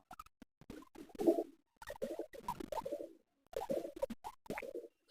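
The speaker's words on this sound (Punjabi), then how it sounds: "ਇਹ ਉਹ ਡੀਸੀ ਵਾਲੇ ਬਾਠਾਂ ਵਾਲੇ ਕਬੂਤਰ ਆ" Pure-breed DC Lohakhera racing pigeons cooing close by: soft, low, throaty coos repeated in short bursts with brief pauses between them, and no talk.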